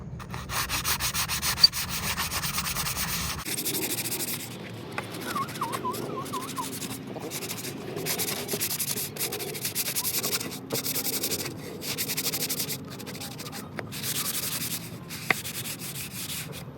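Sanding sponge rubbed back and forth in steady, continuous scratchy strokes during a battery upgrade on a Gator utility vehicle, close and sustained, with faint voices briefly in the background.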